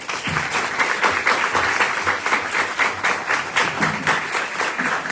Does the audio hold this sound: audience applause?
yes